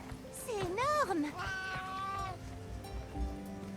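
A Palico cat companion in the video game Monster Hunter Wilds meows in a few rising and falling calls over game background sound, with a voice talking faintly underneath.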